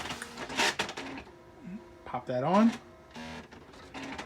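A Brother SX-4000 electronic typewriter powers on with a short burst of mechanical whirring and clattering as the carriage moves, close by, while a person talks over it.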